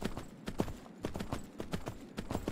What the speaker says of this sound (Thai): ขี่ม้าไปตัดไม้ครับ